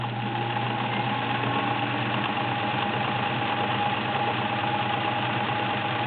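A Sears Kenmore Model 1802 sewing machine sews a multi-point zigzag stitch on denim, giving a steady, loud motor whir that holds without a break throughout.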